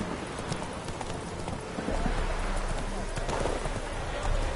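Roach the horse galloping in The Witcher 3 on PS4, steady rapid hoofbeats close by over a dense, busy game soundscape, continuing throughout.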